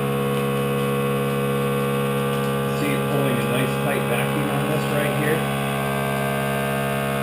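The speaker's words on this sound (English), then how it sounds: "pulling a nice tight vacuum on this right here" A steady electric hum from a small vacuum sealer pump drones on without a break while pulling vacuum on a Mylar bag, with a faint warbling flutter partway through.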